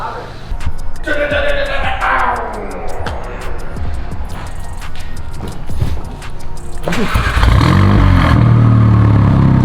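A straight-piped VW MK7 GTI with a CTS Turbo catless downpipe revs loudly nearby, its engine rising and falling before swelling into a deep, heavy rumble, with people talking over it.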